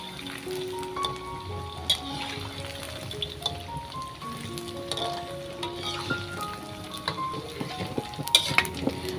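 Tofu rolade fries in a pan as a spatula stirs and scrapes at intervals, with a steady low sizzle running beneath soft clinks and a few sharper scrapes near the end; background music plays throughout.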